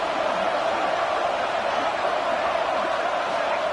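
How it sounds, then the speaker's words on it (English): A roaring stadium crowd in a college football video game makes a dense, steady wall of loud cheering noise with no breaks. "how loud is it in this building? This is crazy. These fans are going absolutely nuts."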